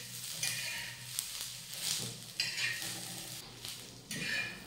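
Onion, ginger and garlic roast in a pan while a utensil scrapes and stirs in repeated strokes over a soft, continuous sizzle, close by, with no voices.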